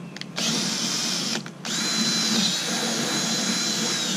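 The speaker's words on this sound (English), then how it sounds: "you have to take a 1/2 inch drill bit, and you can drill right through it" A power drill with a 1/2 inch bit whines steadily at high pitch while drilling through plastic of a kayak cart, close by, stopping briefly twice before running continuously again.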